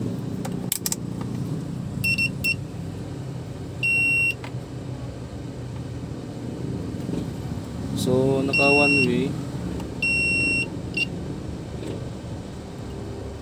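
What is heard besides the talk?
continuity tester buzzer beeping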